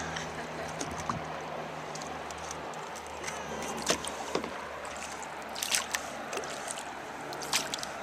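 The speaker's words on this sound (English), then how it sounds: "You hear the rapids?" Broadband rushing water of river rapids heard from a canoe, a steady wash with scattered splashes and knocks from the boat, moderately close.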